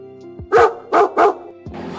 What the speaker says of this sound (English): The dog barked all night.